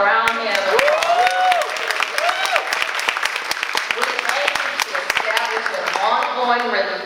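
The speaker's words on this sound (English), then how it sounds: "Let's give them a round of applause." Audience at a public community meeting held with a local organizing group claps steadily for several seconds, a dense patter of hands with voices talking and calling out over it.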